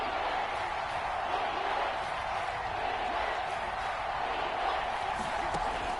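A football stadium crowd roars in a steady, dense wash of cheering ahead of a big third down, heard as continuous distant broadband noise with no clear breaks.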